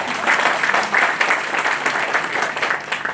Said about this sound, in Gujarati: એક વખત તાળી થઈ જાય